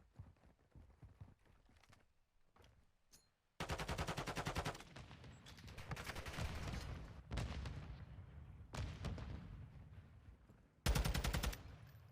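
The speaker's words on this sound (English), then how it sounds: "Vaughn with a sniper kill on Dan." Gunfire from the Call of Duty video game during a competitive esports match, with rapid bursts of automatic shots and sharper single cracks that come in clusters over a low murmur of background noise.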